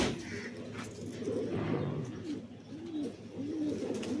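Pigeons, white with clipped wings, coo softly and repeatedly nearby, their low rolling calls overlapping against a quiet background.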